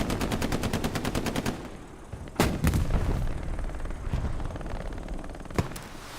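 Rocket and gunfire in the Hell Let Loose video game, a rocket fired at a Greyhound armored car: a rapid machine-gun burst opens, then sharp loud cracks and booms punctuate a rumbling battlefield din.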